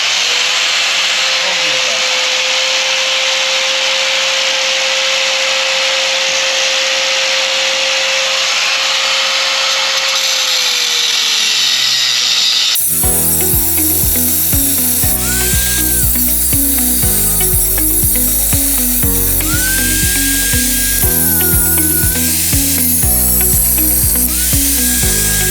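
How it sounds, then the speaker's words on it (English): Angle grinder cutting off a part of the front suspension on a 2013 Ford F150, a steady high whine for several seconds followed by loud, uneven grinding bursts of metal close by. "I gotta grind it right off right here, sadly."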